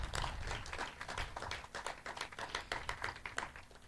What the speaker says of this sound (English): Give all our donors a round of applause.